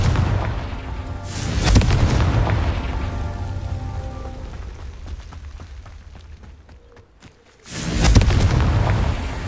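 The Confringo explosive spell in Hogwarts Legacy goes off as two heavy booming blasts several seconds apart, with a low rumbling wash lingering between them.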